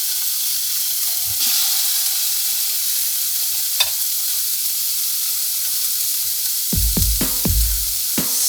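Smash burgers fry on a Ninja Woodfire grill with a steady, bright sizzle and hiss throughout. Near the end, a few sharp scraping knocks from a pressing tool cut in over the sizzle.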